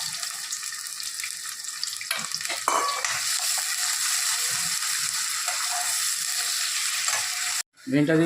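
Rice for chicken biryani cooks in a pot, giving a steady bubbling, hissing wash of sound with a brief clatter and a short pause near the end; no talk.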